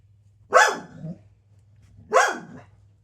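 Pet dogs bark twice, about a second and a half apart, each a sharp nearby woof with a short trailing tail, over a faint steady hum.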